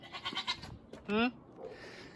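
A goat bleats once, loud and close, with a short wavering cry, after a man's speech on a property where a hot-rodded CJ5 Jeep is being worked on.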